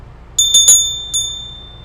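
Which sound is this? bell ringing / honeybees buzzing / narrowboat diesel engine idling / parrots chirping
bell ringing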